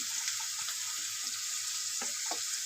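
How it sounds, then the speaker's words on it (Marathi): Potatoes being sautéed in a pan for a Maharashtrian ridge gourd (dodka) bhaji, with a steady sizzle of frying and a few soft stirring knocks, close up with no talking. "बटाट्याला पण थोडंसं परतून घेणार"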